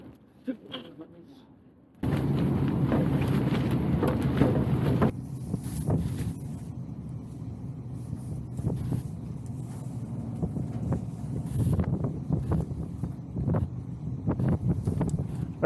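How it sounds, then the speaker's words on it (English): Strong wind buffets the open deck of a boat, roaring against the microphone in a loud rushing burst, then continuing as gusty rumble with occasional knocks, while someone speaks. "With this wind."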